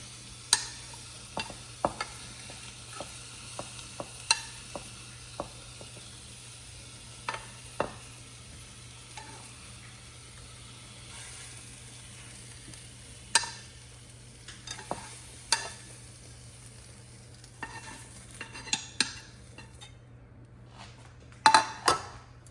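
Charred onion and ginger added to a pot for pho, a quiet low sizzle under scattered clinks and scrapes of a utensil against the pot, close and soft, with no voices.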